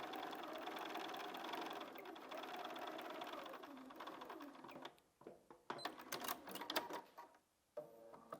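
A sewing machine stitching a quarter-inch seam on log cabin quilt blocks runs steadily and close for about five seconds, then gives way to short bursts of stitching and handling noises with pauses.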